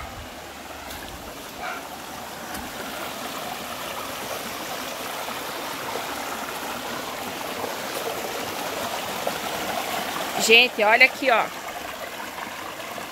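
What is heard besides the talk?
crystal-clear stream water flowing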